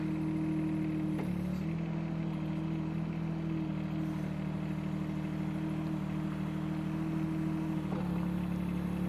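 A Shanding mini excavator runs steadily with a low, droning engine hum while its hydraulics cycle the arm fully out, with slight shifts in pitch and load near the start and end.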